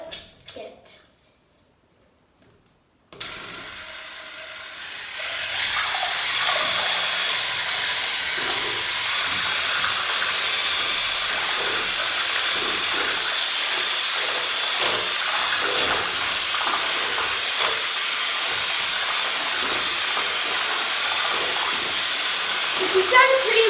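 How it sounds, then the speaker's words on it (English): Cream being whisked for honeycomb ice cream: after a brief near-silence, a steady whirring hiss starts and runs continuously, rising slightly, with a voice speaking over it at times. "Now we're going to need to whisk it"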